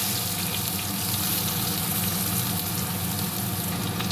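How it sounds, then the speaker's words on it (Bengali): Boiled taro and potato frying in hot oil, giving a steady, dense sizzle that holds evenly from start to finish with no voices. "তেলে আমি সেদ্ধ করা কচু আর আলুটা দিয়ে দেবো। আলু আর কচুটা আমি ভালো করে ভেজে নেব।"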